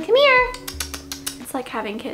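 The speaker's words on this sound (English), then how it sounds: "You can hear my cat screaming in the background." A pet cat yowls loudly and insistently indoors at the start, its drawn-out cries followed by people talking close by.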